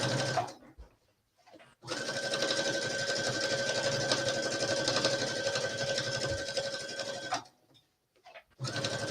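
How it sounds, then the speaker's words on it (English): A sewing machine runs steadily while stitching a pocket flap onto a skirt, a continuous close mechanical whir with a steady pitch lasting several seconds, with short pauses before and after. "I'm stitching the other pocket flap on now."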